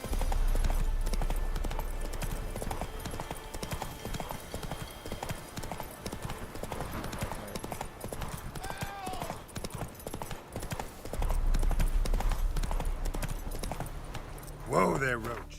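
Roach the horse's hooves clip-clop in a steady trotting rhythm in The Witcher 3, running continuously under game music, with a brief whinny-like burst near the end.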